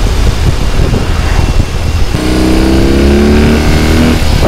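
A BMW R 18 motorcycle engine on a wheelie simulator at a custom bike show, rumbling loudly at first, then climbing into a strong, steady rev held close and loud for the rest of the moment.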